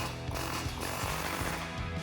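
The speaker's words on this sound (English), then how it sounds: "Now we can punch out the two on the other side." Pressed-in bolts are punched out of a Jeep Wrangler JK exhaust flange, giving a dense run of rapid metallic hammering and rattling impacts, loud and close with no speech.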